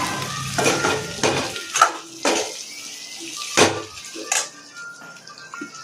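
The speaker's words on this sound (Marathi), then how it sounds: "बटाटे उकडून घेतलेले टाकून घ्यायचे त्याच्यात" Boiled potatoes tipped into a pan of spiced masala with red chilli, garam masala, coriander powder and turmeric: several close metallic spoon clanks and scrapes against the pan over a soft sizzle, with no talking.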